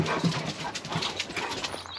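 Restless dogs waiting to go outside shuffle and patter nearby with quick clicking steps and a faint whimper, a busy close-up scuffle without speech.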